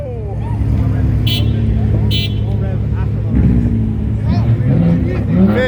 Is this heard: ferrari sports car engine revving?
yes